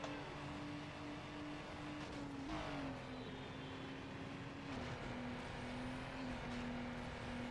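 A car engine in a Need For Speed Underground drag race holds a loud, steady droning tone that drops in pitch at two gear shifts, with no talking.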